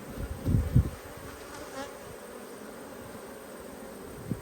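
Honey bees hum in a soft, steady drone close by at an open nucleus hive, with a couple of brief louder thumps near the start.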